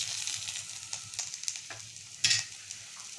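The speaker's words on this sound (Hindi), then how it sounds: "अब इसको अच्छे से मिक्स कर लेती हूँ।" Ginger paste being stirred in a frying pan, a spatula scraping and tapping the metal in irregular strokes over a soft sizzle, with one louder scrape near the end and no talking.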